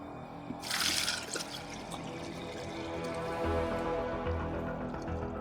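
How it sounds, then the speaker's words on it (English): Homemade mead pours from a pitcher in a brief liquid burst, followed by a steady low trickle and splashing at close range with no talking. "it's a lot easier to pour from the pitcher than it is from this guy"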